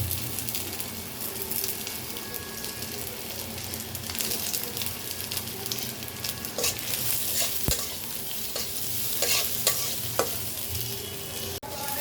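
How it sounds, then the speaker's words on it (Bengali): Garlic and onion frying in a little mustard oil in a wok, a continuous close sizzle with scraping stirs and occasional sharp clicks of the spatula against the metal. "এখন রসুন পেঁয়াজ ওগুলোকেও ভাজবো।"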